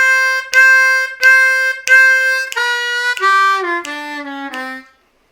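A blues lick on a C harmonica: a run of loud, close, sustained reedy notes, the first few repeated on one pitch, then stepping downward with bent notes before stopping, with no talk.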